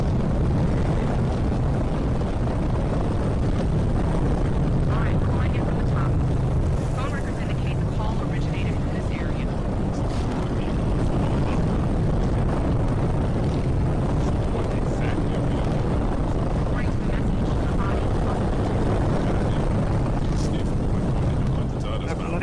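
A steady, loud helicopter rotor drone from the video game Condemned 2 with rushing noise fills the whole stretch, continuous and close, with a voice talking over it.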